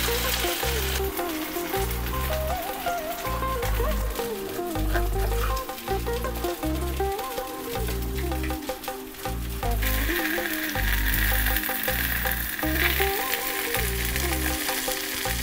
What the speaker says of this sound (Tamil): ஸோ ஸ்லோ ஃபயரில் வந்துட்டு நம்ம இதை ஃப்ரை பண்ணி எடுத்துக்கலாம்.